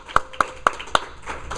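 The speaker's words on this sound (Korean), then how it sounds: "박수 많이 주십시오." Four distinct, evenly spaced claps ring out close and loud in a church gathering, followed by softer scattered clapping from the congregation.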